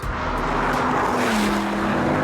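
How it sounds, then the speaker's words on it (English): A Lamborghini Gallardo Superleggera's engine roars loudly and steadily at close range, a sustained high-revving note with a slight pitch shift partway through and no one talking over it. "The Lamborghini Gallardo Superleggera."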